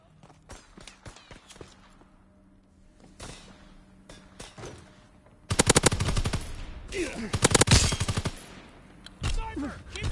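Gunfire in a PS4 video game, with scattered single shots at first and then loud, rapid automatic bursts that rattle on and off through the second half.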